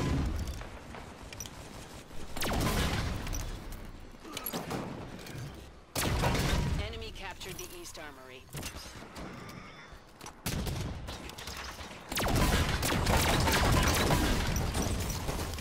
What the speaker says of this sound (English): The fuel rod fires crazy fast compared to a normal one.